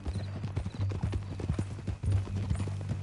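Horse hooves clip-clop in a Western video game, with several firm steps close by that keep on through the clip and a faint whinny in the mix.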